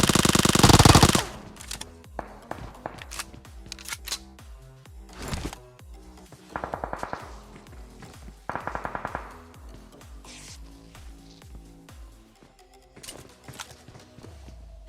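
Video game shootout gunfire: sharp, loud bursts of rapid automatic shots and single cracks spread across the clip, with reload-like clicks and clatter between volleys.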